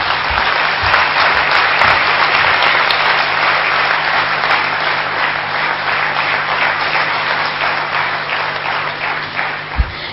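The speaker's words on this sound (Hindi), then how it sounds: "तालियों की गड़गड़ाहट पुनः हो जाए" Sustained, loud applause from an audience at a Brahma Kumaris Gyan Sarovar gathering welcoming a guest, dense clapping filling the whole stretch without pause.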